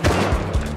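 Rapid gunfire from a firefight in the survival game Rust, a dense burst of overlapping shots close and loud across a short moment, with no speech.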